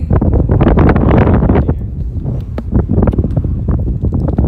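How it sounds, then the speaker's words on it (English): Strong wind gusts roar steadily across a microphone outdoors at a horse riding area, a loud, buffeting rush with no talk. "It's so windy here today."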